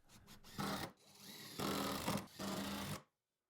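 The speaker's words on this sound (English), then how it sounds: "I like to use a countersinking bit when pre-drilling" A power drill with a countersinking bit whirs in three short bursts while pre-drilling wood, pausing briefly between each, close by with no talking.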